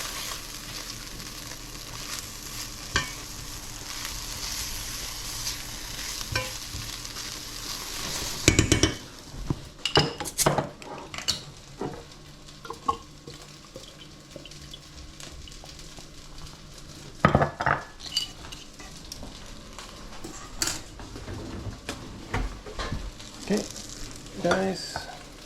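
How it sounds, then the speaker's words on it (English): Rice cooking for a paella-style dish in a pan: a steady sizzle for the first seconds, then scraping and clinking as a spoon stirs it, with intermittent knocks against the pan. "Now I'm just gonna cook up the rice."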